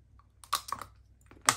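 Crunchy chewing of a segment of Terry's Chocolate Orange with popping candy: a few sharp, close crackling bursts with short pauses between them.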